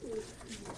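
Racing pigeons in a loft give a short, soft, low coo, heard faintly and briefly against quiet room noise.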